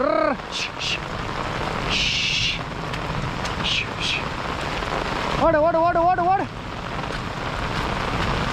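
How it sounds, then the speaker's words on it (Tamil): Heavy rain pours steadily on an outdoor surface during a hailstorm, with people shouting and urging each other to run over the constant downpour. "சீக்கிரம் மழை வெஞ்சேக்குது இடி இடிக்குது"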